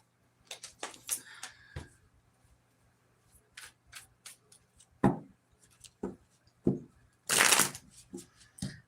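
Tarot cards are shuffled by hand in a quiet room, bursts of riffling and crisp slaps and taps separated by pauses, with one longer, louder riffle near the end; close and without speech.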